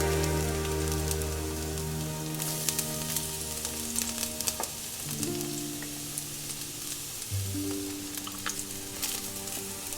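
Chopped garlic frying in olive oil in a pan, a steady close sizzle and crackle with scattered sharp pops and low tonal hums in the background.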